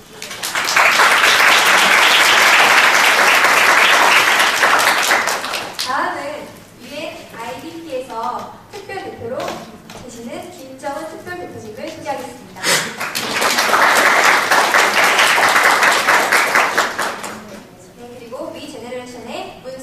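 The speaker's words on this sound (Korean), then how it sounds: "박수로 환영합니다" Loud audience applause welcomes a speaker at a formal presentation, a dense sustained burst lasting several seconds that fades into speech, then a second full round of clapping rising again before trailing off.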